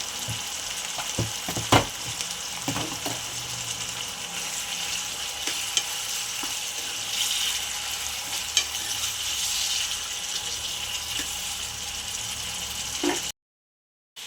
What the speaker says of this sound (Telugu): ఇప్పుడు ఇవి బాగా వేయించుకుందాం.